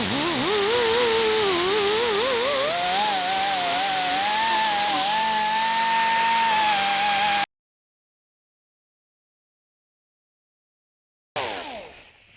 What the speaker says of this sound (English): The other thing with Dremel tools is this one's air driven